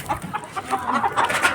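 Chickens clucking close by, a series of short, fairly loud clucks and squawks with no talking over them.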